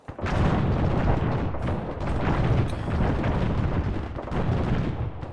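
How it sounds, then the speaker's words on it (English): A massive in-game explosion during a military shooter match set in Operation Just Cause, a loud sustained roaring blast with rumbling low end and ongoing crackling debris that fills the whole stretch, no voices over it. "Exploded, like a massive explosion went off"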